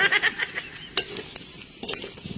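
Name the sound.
sautéing ingredients for dinuguan (pork blood stew) in a pot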